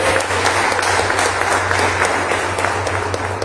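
Lively applause from a church congregation at a Christian worship service, brisk individual claps distinct within a continuous clatter, with a low steady hum beneath.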